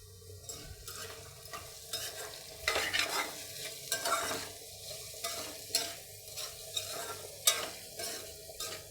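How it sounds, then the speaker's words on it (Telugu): Food is stirred in a pot after salt is added, for a home-style dal soup with potatoes, with repeated scraping strokes every second or so over a low background sizzle, close up and without talk. "కలుపుతాం"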